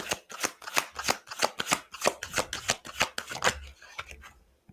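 Tarot cards being shuffled close up, a fast run of crisp riffling flicks and slaps in steady rhythm that trails off at the end, with no voices over it.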